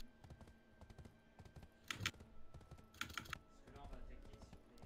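Quick bursts of computer keyboard typing click and clatter in short clusters, fairly faint, with background game sounds and a voice talking.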